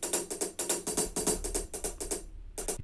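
A hi-hat drum track plays back in Pro Tools as a fast, even run of crisp metallic ticks, fairly quiet, close and dry with a short gap near the end before one more hit.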